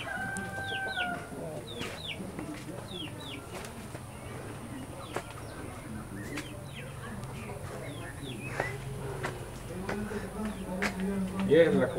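Chickens cluck and chatter steadily in the background of a rural yard, with a few sharp calls and soft rustling, moderately distant and continuous.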